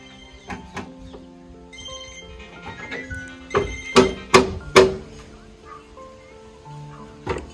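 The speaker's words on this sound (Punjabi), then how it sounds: "ਫੋਨ ਵੱਜਦਾ ਬਾਈ ਤੇਰਾ" A mobile phone ringtone plays a melodic sequence of tones, with a few louder, sharper chiming hits in the middle. The ringing is fairly quiet and heard over a quiet background.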